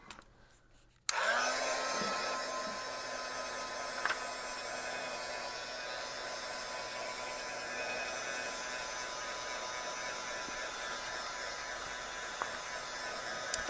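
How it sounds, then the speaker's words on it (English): A heat gun blows steadily on a gel print, a constant loud whooshing hiss that starts abruptly after a second and runs on unchanged. "Okay, so I'm gonna heat gun this for a second."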